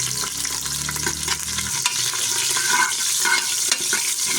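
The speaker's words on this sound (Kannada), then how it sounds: "ಇದನ್ನು ಹಾಕ್ಕೊಂಡು ಒಮ್ಮೆ ಚೆನ್ನಾಗಿ ಫ್ರೈ ಮಾಡ್ಕೊಳ್ತಾ ಇದ್ದೀನಿ" Garlic, green chillies and curry leaves frying in a pan: steady loud sizzling with bubbling crackle throughout, and a low hum fading out partway, no voices.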